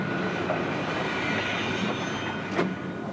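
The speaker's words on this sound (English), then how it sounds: "an overcrowded Victoria Line train was just leaving Highbury and Islington Station" A London Underground Victoria Line train runs near Highbury and Islington Station, a continuous close rumble of wheels on rails with a faint metallic squeal and a brief sharper screech toward the end, with no voices.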